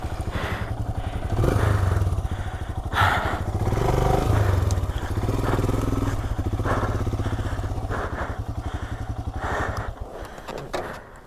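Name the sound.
souped-up Himalayan motorcycle adventure riding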